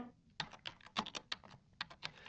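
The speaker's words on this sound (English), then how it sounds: "Get typing, Philip." Rapid typing on a computer keyboard, a quick uneven run of sharp clicks and clacks close up, with no voices.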